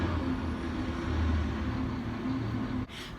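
A loud truck passes outside, a steady low rumble with a humming drone that holds for nearly three seconds before abruptly dropping off near the end.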